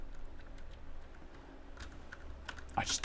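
Mechanical keyboard keys and their stabilizers pressed and tested, giving soft scattered clicks and taps at low volume, with a sharper clack toward the end.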